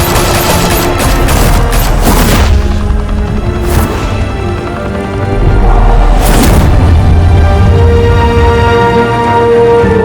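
Gunfire erupting in a Batman Telltale Series shootout: sustained loud bursts of rapid automatic fire with heavy booms, surging twice, close and dominant.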